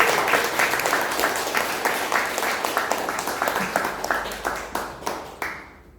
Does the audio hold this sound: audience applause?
yes